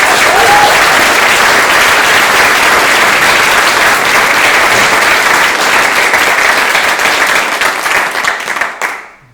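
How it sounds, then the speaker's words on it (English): A large audience at a school graduation ceremony claps in a dense, steady, loud roar of applause that holds for several seconds before tapering off and ending abruptly. "a big round of applause to everybody who presented"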